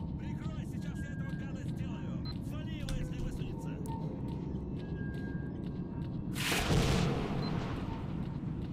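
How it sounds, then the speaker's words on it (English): A grenade explodes in the game S.T.A.L.K.E.R.: Shadow of Chernobyl. A loud burst rises late over a constant rumble of game noise, and a voice is heard faintly earlier on. "They definitely threw a grenade."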